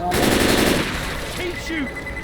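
Rapid automatic gunfire bursts loudly from a weapon in the zombie shooter game Left 4 Dead 2, a dense burst up front that thins into scattered game sounds and effects.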